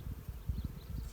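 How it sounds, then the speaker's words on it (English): Bees buzz among the trees of an almond field on a warm January morning, a low, faint, continuous hum with soft pulses, heard alone outdoors. "you can hear the bees in this one now."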